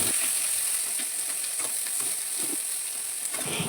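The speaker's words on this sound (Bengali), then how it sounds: "ওই তেলে লঙ্কা, পেঁয়াজ, কাঁচা লঙ্কা দিয়ে নেড়ে নিয়েছি" Onion, fresh green chilies and dried chilies frying in hot oil in a home kitchen while being stirred, a steady close sizzle with faint scraping of the stirring under a constant hiss.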